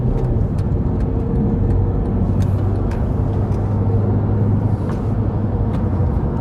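A Honda Civic sedan cruises at highway speed and makes a quick lane change while overtaking, heard as a steady, loud road and engine roar with continuous tyre rumble throughout.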